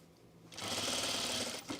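A home sewing machine stitching through layered fabric for a jumpsuit with heavy presser foot pressure, a close, steady whirring hum that starts after a soft lead-in and runs evenly before stopping.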